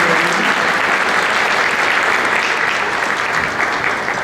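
An audience at an evening concert gives the soloist sustained, dense applause, with loud steady clapping that holds at an even level throughout with no break.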